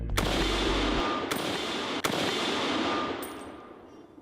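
Gunshots for the assassination of President John Kennedy: a loud, reverberant burst of gunfire followed by two sharp cracks that ring out and slowly fade.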